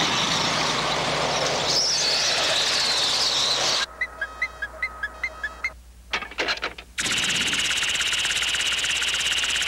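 Loud roaring runaway subway train engine in a 1980 cartoon, with rapid knocking, cutting to a rhythmic mechanical chugging and clanks, then the roar returns at full volume.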